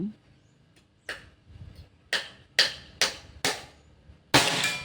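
A Predator Pajero Gun Gen 6 air gun fires during an accuracy test, along with a few other sharp snaps. About seven crisp, close cracks sound at uneven intervals, with the last and loudest one ringing on briefly.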